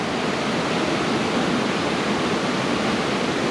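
Waterfall at Finch Hatton Gorge, Queensland, spilling into rainforest rock pools: a steady, unbroken rushing roar, close and loud, with no voices.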